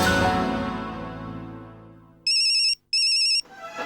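A telephone ringtone trills in two bright electronic bursts, separated by a brief gap, as a sustained musical chord fades out underneath; loud and close, with no one talking.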